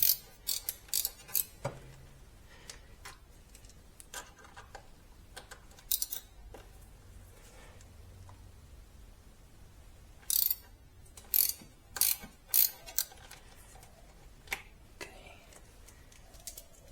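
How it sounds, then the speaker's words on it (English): A ratchet clicks in short bursts while the retaining screws on a Ducati Multistrada 1260S front wheel are loosened after being torqued to 10 Nm, quiet and close, with pauses between bursts. "let's loosen the retaining screws, those who were previously tightened with 10 Newton meters"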